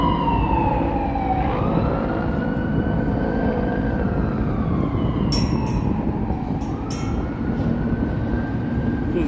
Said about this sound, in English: I can't talk without the siren there